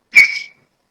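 A person whistles one short, bright note lasting about half a second, heard close and alone against silence.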